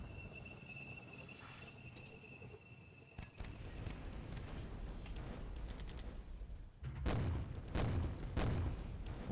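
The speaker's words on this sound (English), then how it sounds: "mortars are doing something in theory" Mortar fire in a tank-battle video game's US campaign: a sudden dull blast, then a heavy, continuous rumbling barrage of explosions in the last few seconds over a steady ambient battlefield bed.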